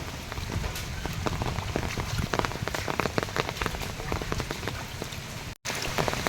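Rain falls steadily on a hard surface, with close, irregular drops tapping over a constant hiss; a brief dropout near the end.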